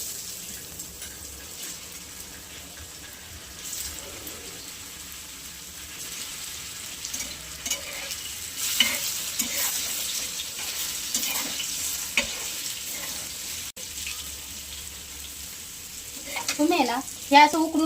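Pieces of colocasia leaf sandge (alu vadi) deep-fry in hot oil with a soft, continuous bubbling sizzle, broken by stirring clinks and a louder burst of frying toward the end.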